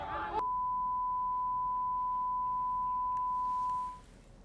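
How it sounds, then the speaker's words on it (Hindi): A single steady censor beep tone runs unbroken for about three and a half seconds, masking abusive words spoken at a political party event, with a brief burst of voice before it begins. "इसीलिए हमने बीप कर दिया है उस लाइन को।"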